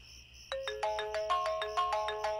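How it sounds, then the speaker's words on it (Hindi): A mobile phone ringtone plays a bright, repeating electronic melody of short tonal notes in a steady rhythm, fairly close and clear over a quiet low hum, with no talking. "गगन दा फोन है?"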